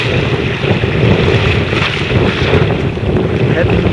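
Wind roars steadily across a small sailboat on a North Carolina coastal sailing challenge, a loud, continuous broadband rush and microphone buffeting with no pauses and no talking.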